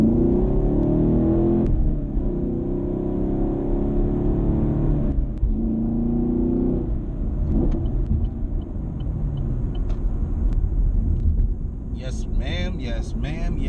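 Chevrolet Camaro SS 1LE engine rumbles close and loud while the car makes a U-turn, its tone shifting as it slows and pulls away, with someone talking over it and a brief chirpy sound at the end.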